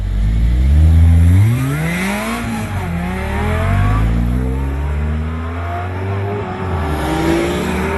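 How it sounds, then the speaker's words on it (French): A prepared Mercedes SLS race car roars on a track as its loud engine revs up and down through gear changes. The rising and falling tone is close and continuous. "nous nous sommes ainsi retrouvés conducteurs d'une Mercedes SLS préparée par Dijon Auto Racing et pourvue d'une belle mélodieuse ligne"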